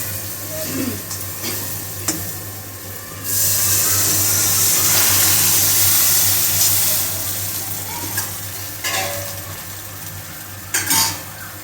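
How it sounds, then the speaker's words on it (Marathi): Water is poured into a hot pan of roasted tomatoes while making pithla, and a loud, broad sizzling hiss swells and holds for several seconds. Scraping and stirring clicks come before and after, over a steady low hum. "यात आपल्याला जेवढं लागतं तेवढं पाणी टाकून घ्यायचं आहे"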